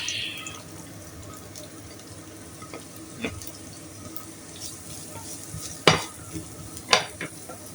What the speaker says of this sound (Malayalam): സബോളയും കൂടെ ഇട്ട് വാട്ടാം